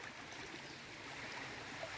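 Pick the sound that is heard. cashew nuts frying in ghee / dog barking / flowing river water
flowing river water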